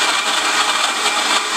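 Electric blender running on its chop setting, grinding fresh coconut pieces for coconut milk; a steady, loud broadband whir that holds without a break for the whole stretch, with no voices.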